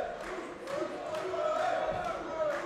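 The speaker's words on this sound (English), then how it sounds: "Crowd enjoying themselves up there." Arena crowd at a professional MMA bout cheering and roaring in a steady wash of noise, moderately loud and distant, with a commentator talking over it.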